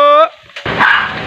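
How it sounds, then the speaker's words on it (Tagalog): A dog barks near a vendor's street selling spot, one sharp harmonic bark at the start, followed by a loud noisy burst of background commotion, with no clear talking. "May aso."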